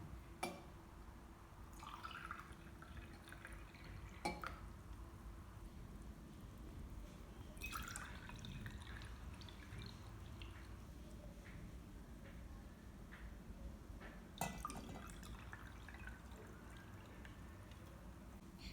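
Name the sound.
water being poured into glasses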